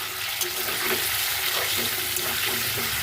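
Paneer cubes frying in oil in a pan with garam masala powder, a dense continuous sizzle with faint scraping, close and steady, no voices.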